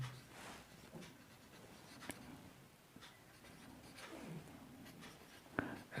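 Pen on paper as a math solution on percentages is written out, faint soft scratching strokes with a few sharper taps, quiet and close with no talking.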